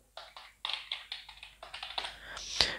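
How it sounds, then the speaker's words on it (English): Keys clatter on a GXT 830 RW Avonn mechanical keyboard in a quick, uneven run of crisp clicks, close and clear, ending with one sharper tap, with no voices. "You can see it's a mechanical keyboard."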